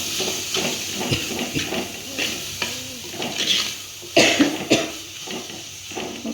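Sesame, peanut and coconut spice powder being stirred into a curry in a hot pan, with close scraping strokes and a steady sizzle, punctuated by a few louder clatters near the end.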